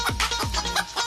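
A voice imitates a rooster crow during a stunt reality show: a quick burst of sliding, crowing syllables, close and fairly loud, with no other sounds.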